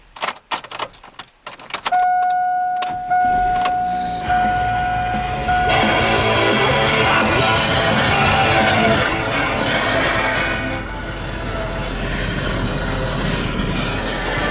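A car's engine and road noise fill the cabin of a moving vehicle, loud and steady throughout after a few sharp clatters at the start, with a brief tonal whine early on.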